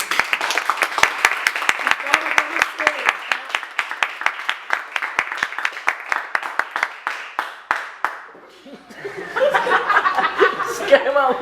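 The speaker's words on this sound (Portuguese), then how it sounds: "Palmas para ela." A podcast audience gives sustained applause for a teacher, with sharp claps repeating steadily for about eight seconds. Chuckles and chatter mix in, and voices and laughter take over at the end.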